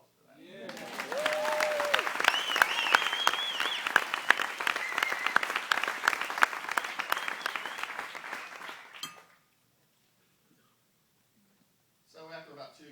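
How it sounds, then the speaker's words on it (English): Wedding guests break into a burst of applause lasting about eight seconds, steady clapping with a few cheers and whistles, then it stops abruptly into near silence before a voice resumes. "Let's have some applause for that."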